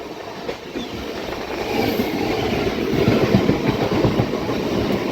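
The 22618 Intercity Superfast Express rumbles along the rails near Bengaluru, a steady loud roar with rhythmic wheel clatter that swells slightly as it passes, heard without voices.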